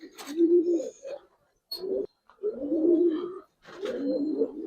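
Giribaz pigeons cooing close by in four throaty, rolling bursts separated by short silences, each coo low and warbling, with a few faint higher chirps between them.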